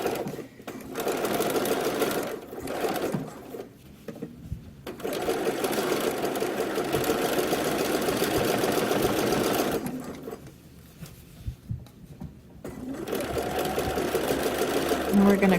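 A sewing machine runs in long steady bursts while stitching a circle on a garment, with brief stops between runs. A voice talks over parts of it.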